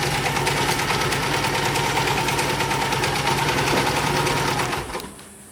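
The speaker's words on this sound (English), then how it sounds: "I'm just going to let the sewing machine" A sewing machine runs steadily, its rapid mechanical stitching hum loud and close as it sews a UV sacrificial strip onto a sail, then winds down and stops near the end.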